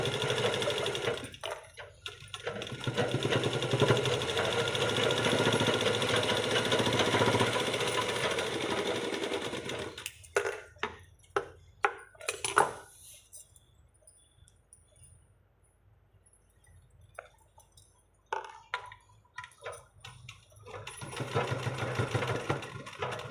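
A sewing machine stitches fabric in steady, rapid bursts, with loud continuous runs broken by short pauses and quieter stretches of handling between stitches.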